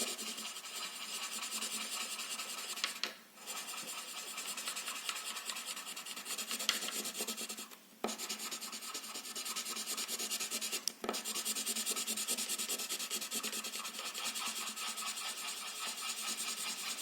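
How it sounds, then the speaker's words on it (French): Purple pencil colouring on paper, a continuous close scratchy rubbing of rapid back-and-forth strokes, broken by a few short pauses. "Je vais le colorier en violet."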